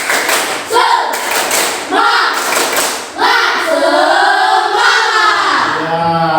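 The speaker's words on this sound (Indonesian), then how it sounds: "Coba kita tepuk semangat ya. Tepuk semangat." A school class claps together in a loud rhythmic spirit-clap pattern, bursts of sharp claps separated by brief pauses, while voices call out over them.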